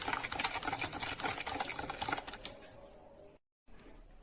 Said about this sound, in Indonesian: Kemudian campur santan dengan gula pasir juga garamnya. Ini kita aduk sampai semuanya larut